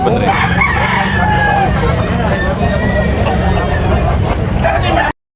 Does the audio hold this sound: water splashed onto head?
no